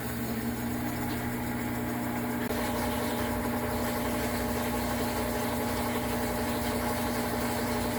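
An Amana washing machine runs its final spin cycle with no shaking, giving a steady droning hum with a low mechanical tone that stays constant from start to finish.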